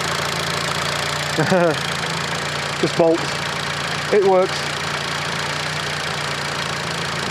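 A 1991 Fiat Panda 4x4 with a Fire engine idles smoothly and steadily nearby, a low even tick-over running under short bursts of someone talking.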